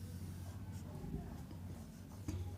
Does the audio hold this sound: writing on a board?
yes